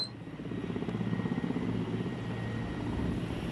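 Helicopters near the airport in Bamiyan, Afghanistan, a steady rhythmic rotor chop with a continuous engine drone, moderately distant and unbroken, with no voices.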